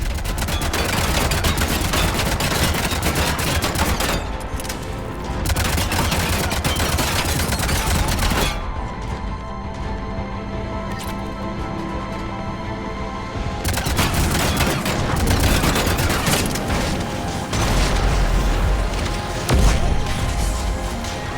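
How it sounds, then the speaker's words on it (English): Video game cannons firing in dense, rapid volleys that keep up loud, continuous booms and crackle, easing into a quieter stretch midway before resuming at full force. "Cannons still need to be manually armed."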